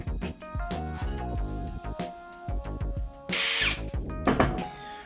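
Power drill with a polishing head working acrylic polish into the plastic interior trim of a Datsun 280ZX: loud whirring and revving in short bursts, with a steady motor hum, rubbing and scraping close by.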